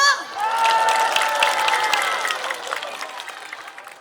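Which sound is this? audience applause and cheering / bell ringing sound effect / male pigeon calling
audience applause and cheering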